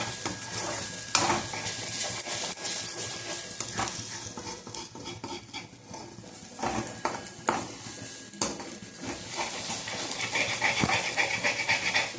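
A spoon scraping and stirring a carrot and egg fry in a pan for egg fried rice: irregular clinks and scrapes against the metal over a soft sizzle, with a few sharp knocks in between and no voice.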